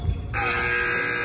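A basketball game clock buzzer sounds at the end of a countdown during a college practice at New Mexico State University, a loud, steady electronic tone that starts abruptly after a brief moment of court noise and holds to the end.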